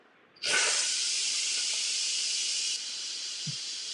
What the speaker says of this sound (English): And now you see all that steam is just shooting straight up high.